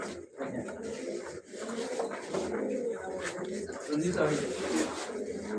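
Domestic pageant pigeons coo in low, repeated, throaty calls close by, overlapping one another while someone talks over them.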